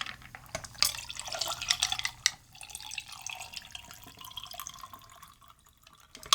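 A cranberry Collins cocktail with club soda is poured and strained into a glass, a steady trickling, dripping stream of liquid with a few sharp clinks of ice or metal, close and fairly quiet.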